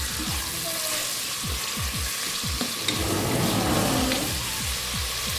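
Chana gosht, chickpea lentils with meat, sizzles loudly in a pan while being stirred, a dense continuous frying hiss with steady scraping strokes.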